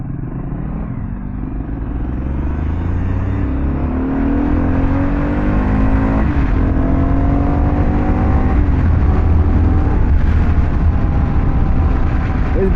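Kawasaki KLR650 and Yamaha R3 motorcycles ridden off road on a hill climb, engines droning steadily and rising in pitch as they accelerate, a loud continuous rumble with brief voices in the mix.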